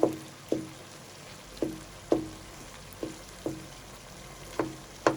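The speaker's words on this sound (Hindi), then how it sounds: "जैसे खड़ा चम्मच करेंगे, हल्के हल्के हाथ से हम टमाटर का पेस्ट बनाएंगे" Tomatoes mashed into paste with the back of a spoon, a steady series of soft separate thuds against the pot about every half second, close and alone.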